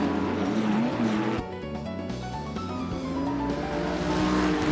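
A race car in Assetto Corsa, an MX5 in a racing series, brakes hard and skids, with steady engine drone and wavering tire squeal throughout, close and continuous.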